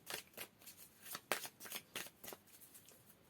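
Tarot cards being shuffled by hand, a soft close riffling in about a dozen quick rhythmic bursts, quiet and alone.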